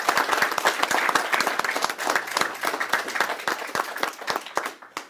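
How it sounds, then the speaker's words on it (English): A courtroom crowd after a Pike County murder trial verdict applauds the investigators, with sharp, distinct individual claps in a lively, fairly close burst that thins toward the end. "Give these gentlemen and ladies a round of applause for their work"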